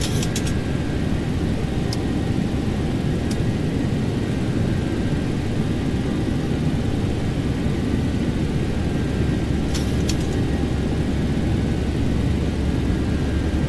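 A Boeing 737-800 takes off in the X-Plane 12 flight simulator, with a steady, loud engine roar that holds constant throughout, plus a few faint clicks.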